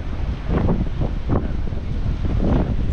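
Strong outdoor wind buffets the microphone with a continuous low roaring rumble and gusty swells, loud and steady throughout the short stretch.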